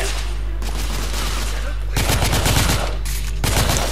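Gunfire from the video game The Order comes in bursts: loud, dense volleys of shots that pause and resume, up close, heavy and booming.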